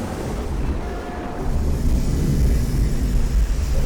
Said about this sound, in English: The Type 7 cuts beneath the waves so fast if you have some speed.